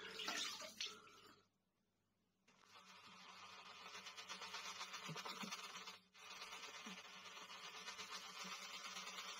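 Water trickles and splashes over a shaving brush being worked into lather, a steady close wet hiss that stops briefly, then resumes; no talking.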